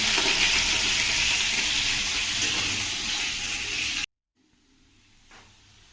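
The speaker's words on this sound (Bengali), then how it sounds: "আলুগুলোকে তেলে ফ্রাই করা হবে।" Potatoes coated in salt and turmeric frying in oil, giving a loud, steady, bright sizzle close up for about four seconds before it cuts off to near silence.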